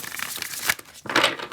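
An oracle card deck from the Power Archangel set being shuffled by hand, giving crisp papery riffling and flicking bursts close by, with a short pause before a final flurry.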